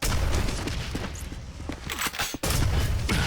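Grenades burst in a fast Quake deathmatch, with a dense run of overlapping booms and thumps that stays loud for about three seconds, broken by a short gap.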